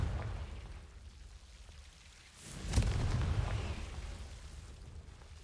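A Confringo fire spell goes off in Hogwarts Legacy as a single sharp, booming burst with a low rumble, rising from a steady rain-like hiss and then trailing off.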